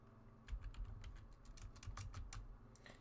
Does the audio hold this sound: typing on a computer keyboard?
yes